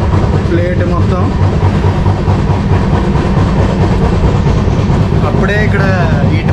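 A Duronto Express sleeper class coach rolls along the rails with a constant low rumble and rhythmic clickety-clack heard from inside, fairly loud and steady, with brief voices in the background.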